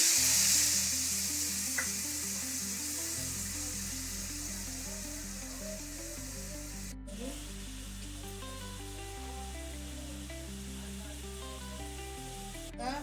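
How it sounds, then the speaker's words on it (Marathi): Tomato frying with onion in a pan as mackerel roe is cooked, a steady close sizzle running throughout with a brief stir or scrape midway, no talking. "कांदा झालेला आहे. मी टमाटर टाकते."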